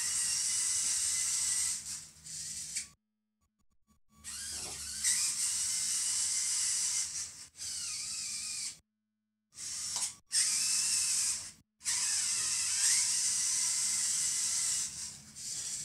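A VEX EDR robot runs with a loud high hissing whine, broken by several abrupt silences where it stops and starts again.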